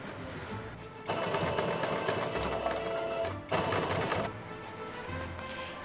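A sewing machine top stitches folded fabric on a cosplay build, running in two steady bursts of rapid needle chatter separated by a short pause, then easing off, close and fairly quiet.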